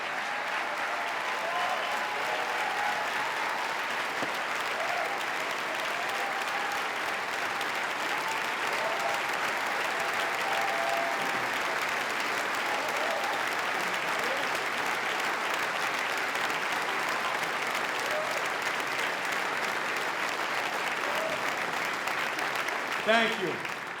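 A large audience applauds at a governor's agenda address, dense sustained clapping filling the hall evenly for the whole stretch, steady and fairly loud, with no break in the ovation.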